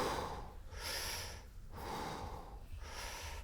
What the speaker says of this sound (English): take a slight inhalation in, but fill with the belly first